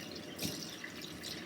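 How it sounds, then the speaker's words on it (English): Running water rinses vinegar and salt off a copper plate, a steady close splashing stream that swells briefly partway through. "Rinse that vinegar and salt off."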